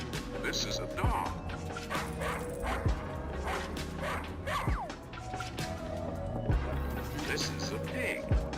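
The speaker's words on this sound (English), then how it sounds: "This is a dog." A dog yips and barks in Placid Plastic Duck Simulator, short repeated bow-wows and whimpers scattered across a busy game backdrop, with someone talking over them.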